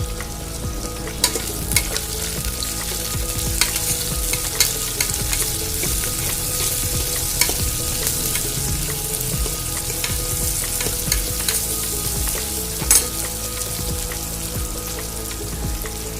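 Onions sizzle in hot oil with mustard seeds and cumin while cooking foxtail millet bisi bele bath, a steady crackling fry throughout with occasional clinks and scrapes of stirring, close and alone without talk.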